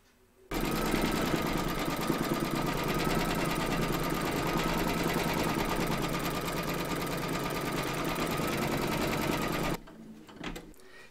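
Embroidery sewing machine in a hoop stitching an appliqué outline for a beehive design, a loud, steady run of rapid rhythmic stitching for about nine seconds that then stops abruptly.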